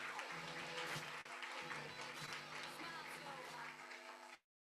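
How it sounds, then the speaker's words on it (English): Sustained audience applause at a hair care event, a dense wash of many hands clapping loudly and steadily for about four seconds before cutting off abruptly. "A big round of applause to Encik Hassani, Sapphire."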